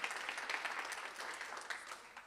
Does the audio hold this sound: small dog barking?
no